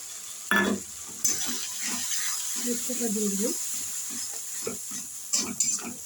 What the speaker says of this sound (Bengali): হালকা একটু জল দেবো। দিয়ে দিলাম।